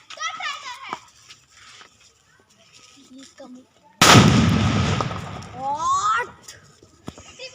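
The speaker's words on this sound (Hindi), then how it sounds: "इनको चाहिए सिर्फ पटाखा फोड़ना" A sharp, loud firecracker burst erupts with crackling that fades over a second or two, while children chatter and shout before and after it.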